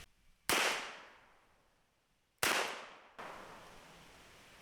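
Taurus Judge Home Defender revolver fired one-handed with a shotgun slug: two sharp, loud blasts about two seconds apart, each with a long decaying echo, followed by a softer thud.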